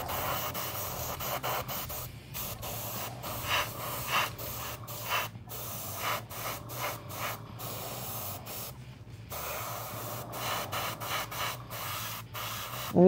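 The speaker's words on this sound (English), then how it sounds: "I'm going to just spray this down because I want to get this done." An aerosol can sprays primer paint in repeated hissing bursts of varying length, close by, with short pauses and faint handling noises between sprays and no talking.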